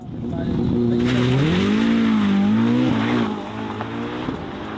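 A loud Ferrari SF90 Stradale V8 hybrid engine hums and swells in pitch, rising and falling as it revs, then eases off to a quieter drone near the end.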